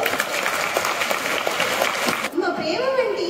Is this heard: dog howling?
no